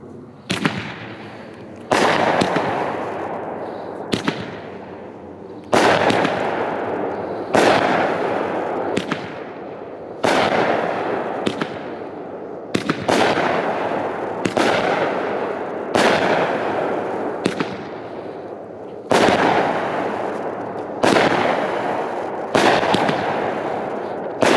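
Pyro Planet Zombie Attack, a 16-shot 1.4G firework cake with 1-inch tubes firing straight up, launches a run of loud, sharp shots spaced about a second or two apart, each trailed by a crackling burst that decays before the next.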